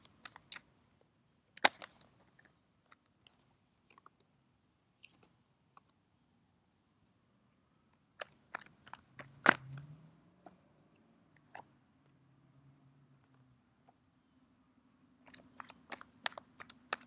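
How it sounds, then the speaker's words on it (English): Tarot cards are shuffled by hand in a quiet room, producing sparse soft clicks and taps, with a few denser bursts of riffling near the middle and end, no voices. "Let me just shuffle your cards."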